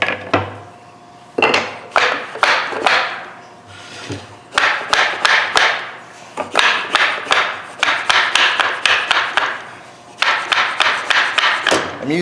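Sharp wooden taps from a block struck against a wooden door to free a glued part, coming in quick bursts of several knocks with short pauses, close and fairly loud, with no talk.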